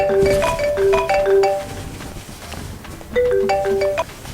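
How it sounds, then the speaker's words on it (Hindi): A mobile phone plays a bright melodic ringtone, two bursts of repeated electronic note phrases separated by a brief lull, loud and close with no one speaking. "ये किसका फ़ोन बज रहा है?"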